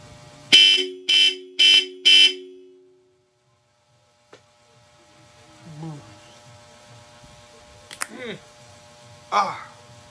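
Four short loud blasts from a Hella car horn in quick succession, followed by quiet, a few faint clicks, and brief bits of speech.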